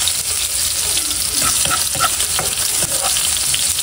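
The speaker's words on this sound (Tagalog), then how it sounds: "Tayo po yung magigisa na ng alamang. Ilalagay na po natin itong bawang at sibuyas." Shrimp paste is sautéed with garlic and onion, a loud, close, steady sizzle with stirring scrapes and a few sharper crackles throughout.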